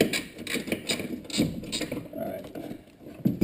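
Ratchet clicking bolts loose during a rear bumper install on a vehicle, short bursts of rapid close clicks with a brief spoken word.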